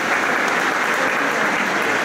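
An audience at a Donald Tusk supporters' rally in Płock applauds, giving dense, continuous clapping that is loud and close and sustained throughout.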